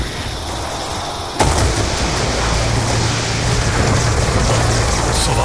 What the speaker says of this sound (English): If I jump and I shoot my, ray gun, it launches me back.